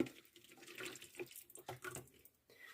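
Water poured from a spouted plastic bottle into a small plastic watering can outdoors in a garden while sowing carrots, a steady close trickling and splashing that runs continuously for a few seconds.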